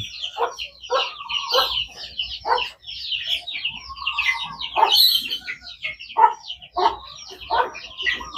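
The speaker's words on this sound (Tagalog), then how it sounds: "Crossbreed po yan ng native at saka Rhode Island Red" A hen, a crossbreed of native chicken and Rhode Island Red, clucks again and again in short bursts, close and fairly loud, with a few higher calls mixed in.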